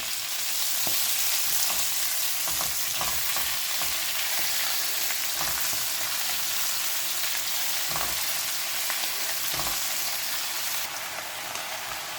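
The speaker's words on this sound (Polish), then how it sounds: "Dodajemy szpinak i smażymy do czasu aż zmniejszy objętość." Steady hiss and crackle of spinach frying in a hot pan, continuous and close, with scattered pops and no talking.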